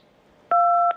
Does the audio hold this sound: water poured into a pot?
no